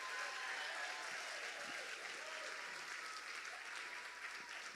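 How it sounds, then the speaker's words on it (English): Steady audience applause at a business competition event, a dense wash of clapping heard from a distance, sustained throughout with no one speaking. "How about a round of applause for our MCs?"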